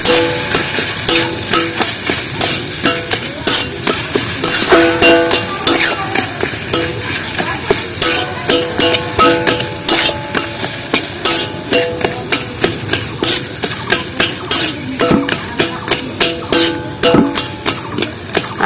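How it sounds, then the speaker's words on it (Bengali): Potatoes and spices sautéing in oil in a pan, with steady frying sizzle and repeated scraping, knocking strokes of a spoon against the pan, loud and close, no talking. "তো আলু আর মশলাটা ভালো করে কষিয়ে নেব"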